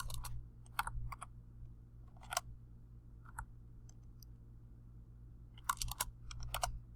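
Keys tapping on a computer keyboard in short scattered bursts, a few quick clicks at a time with pauses between, close and fairly quiet over a steady low hum.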